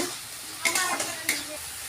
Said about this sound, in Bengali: ভালোভাবে মশলাটা ভেজে নিয়েছি তেল ছেড়ে এসছে মশলা থেকে